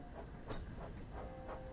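Thomas the Tank Engine steam locomotive from a Thomas & Friends train simulator game chuffing along, soft rhythmic puffs repeating about every third of a second under a low steady rumble.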